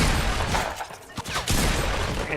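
Sustained automatic gunfire from a video game shooter rattles loudly, dipping briefly mid-burst before resuming in a dense, rapid stream of shots.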